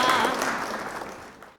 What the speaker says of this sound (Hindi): तालियों का साथ देते रहिए